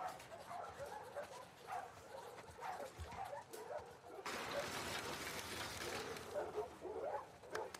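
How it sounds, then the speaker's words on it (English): A dog in The Last of Us Part II video game gives excited, close yips and whimpering barks scattered through the clip, over a steady background hiss that grows louder partway through. "Hey, you crazy dog."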